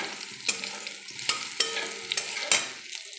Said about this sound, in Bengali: দেখো তেল গরম হয়ে বেগুনটা ফ্রাই করে নিয়েছি